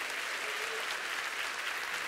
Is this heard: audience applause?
yes